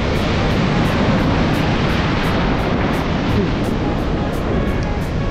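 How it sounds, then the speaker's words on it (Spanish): Ocean waves wash onto a beach in El Salvador in a loud, steady roar of surf with wind noise, close and unbroken, with faint speech underneath. "Está jalando el mar."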